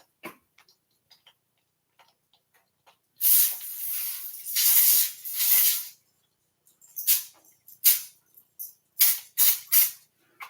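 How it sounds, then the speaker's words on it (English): Cooking spray hisses from a can over a pan while a Mexican pizza is made: one long spray of about three seconds, then several short bursts, with faint ticking clicks between them. "So, let me spray this."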